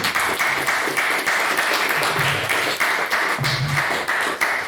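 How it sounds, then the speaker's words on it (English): Audience at an evening debate applauding the speakers, sustained dense clapping at an even level throughout, with no talk over it. "could we have another round of applause for all of our wonderful speakers this evening"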